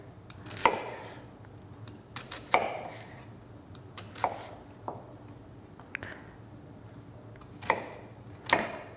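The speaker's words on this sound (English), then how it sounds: "The only thing I need to do is dice up this onion real quick." An onion diced into small pieces with a knife on a cutting board: sharp, close chopping knocks in uneven bursts, a few quick strokes then pauses, over a quiet background with no talk.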